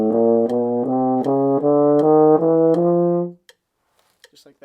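Euphonium (baritone horn) playing an F chromatic scale in steady eighth notes, a close, loud run of evenly tongued tones that climbs for about three seconds and then stops, leaving near silence.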